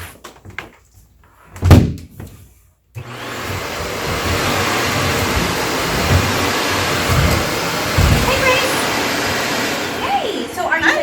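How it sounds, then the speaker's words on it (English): Vacuum cleaner starting up inside a church after a few knocks and a door thump, then running loud and steady with a continuous whirring roar, voices briefly heard over it. "Well, I guess we can just start vacuuming again."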